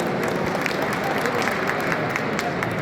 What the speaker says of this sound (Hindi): एक बार जोरदार तालियां बजाने का सम्मान करें।